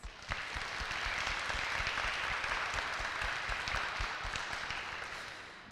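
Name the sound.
audience round of applause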